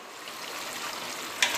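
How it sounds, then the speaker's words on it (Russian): Steady, even sizzling of roe deer meat frying in a hot pan, with a short sharp crackle near the end. "Мясо отлично жарится."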